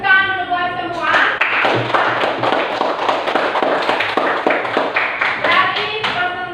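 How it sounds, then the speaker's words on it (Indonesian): Classroom students clapping together after a group presentation, a burst of many hands with sharp taps and uneven rhythm, with a brief voice heard at the start. "Tepuk tangan dulu buat semua."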